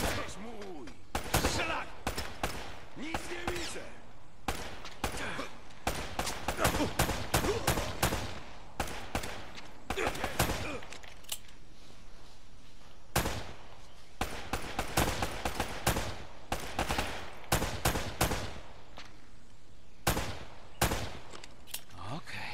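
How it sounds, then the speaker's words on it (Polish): Rapid bursts of gunfire and explosions in the jungle shooter Uncharted: Drake's Fortune, sharp loud cracks arriving in dense volleys with short gaps, some clustered into quick rattling runs over about twenty seconds. "Niekontrolowane wybuchy."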